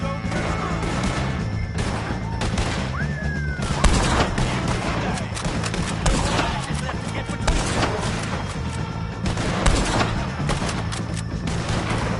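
Gunfire rattles through a shootout in the Red Dead Redemption 2 mission 'Goodbye, Dear Friend', with dense, rapid, close shots and bangs stacked over a noisy battle din.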